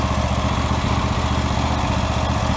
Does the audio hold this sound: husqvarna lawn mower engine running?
yes